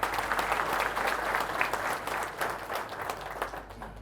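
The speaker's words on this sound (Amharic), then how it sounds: "ሞቅ ያለ ጭብጨባ" Warm applause from an audience at a community event honouring a health minister, steady dense clapping filling the whole stretch with no voices over it.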